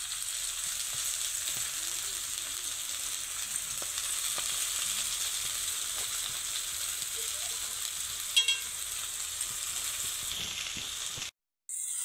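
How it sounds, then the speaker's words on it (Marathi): Dill and spinach greens frying in hot oil in a village kitchen, a steady, close, even sizzle that runs unbroken through nearly all of it, with a brief clatter near the end before a short cut. "तर आता तेल आपलं तापलं आहे, तर आपण आता ही जी भाजी आहे ती टाकून घेऊ."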